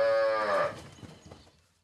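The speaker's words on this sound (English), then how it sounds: "They have 200 cattle to round up and drive back to the farm." Cattle mooing during a round-up of a large herd in the Colombian valleys, one long loud low moo opening the clip and fading into quieter animal and outdoor noise.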